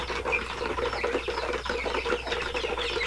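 Young chicks, about thirty of them, chirping in a coop, with a dense, continuous chorus of thin, high peeps at moderate distance and no talk.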